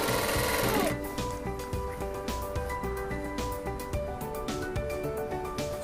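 Sewing machine stitching puff sleeves on cloth: after a brief rustle, a close, rhythmic mechanical whir with fast repeated needle clicks continues steadily, without talk.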